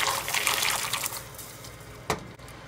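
Whole cashews tipped into a pan of just-boiled water on a switched-off stove for soaking, a soft splashing gush of liquid at first, then quieter with one short splash near the end.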